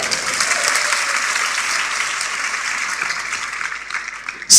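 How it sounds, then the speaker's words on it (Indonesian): Church congregation applauding during a sermon, a sustained, fairly loud burst of clapping filling the hall with no talk over it. "Tepuk tangan dulu deh."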